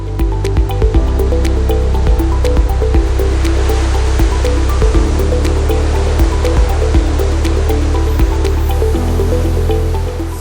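A Firefly portable fire pump sprays a continuous rushing jet of water, splattering and dripping over a steady droning pump motor, loud and close throughout with no voices.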